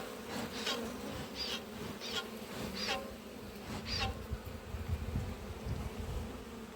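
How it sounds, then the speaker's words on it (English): Honeybees swarm and buzz around an open hive during an inspection and split, a steady close drone with individual bees zipping past the microphone in brief louder passes. "There's bees all over the ground though"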